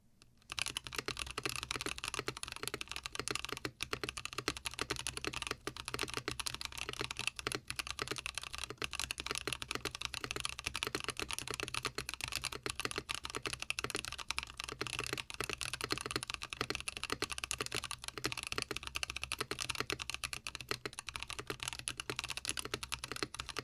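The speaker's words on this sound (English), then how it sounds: "But here is the lubed version of the Boba U4T switches." Steady, fast typing on a mechanical keyboard with lubed Gazzew Boba U4T tactile switches, smooth, muted key presses, close and continuous for the whole stretch, no voices.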